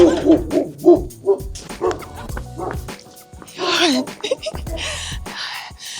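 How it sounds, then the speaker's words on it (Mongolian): A dog barks and yips several times up close on a dark street at night, with whimpering and some voices in the later part. "Нохошоо хуцаад эвгүй шүү."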